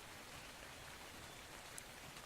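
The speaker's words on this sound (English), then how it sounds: "Oh, is it rain? Really? Come on. It's raining already." Steady, faint rain hisses evenly in a video game, a soft continuous wash of falling drops with no other sounds.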